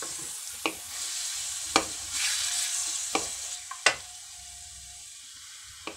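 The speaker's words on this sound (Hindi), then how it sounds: "और अब हम करेंगे इसको शैलो फ्राई।" Chicken marinated and mixed with garlic shallow fries in oil with a continuous sizzle, while a spatula scrapes and taps the pan several times at irregular intervals.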